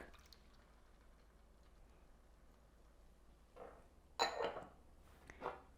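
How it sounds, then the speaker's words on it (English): Evaporated milk poured into a pan for kesar peda, faint and close, with a short soft splashing burst near the end after a long stretch of near silence. "Add the milk."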